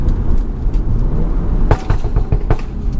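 A BMW F30 with an XHP transmission tune downshifting while driving: a loud, steady engine and road roar, broken by a few sharp crackling bursts near the end.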